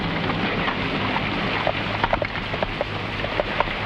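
Heavy rain falls in a dense, loud, constant hiss, with scattered sharper drops pattering through it.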